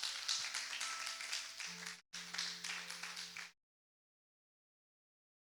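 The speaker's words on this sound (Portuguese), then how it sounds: "Alguém pode aplaudir o nome do Senhor?" A church congregation clapping together for a few seconds, a brief pause, then more steady applause before it stops, moderately distant and fairly faint.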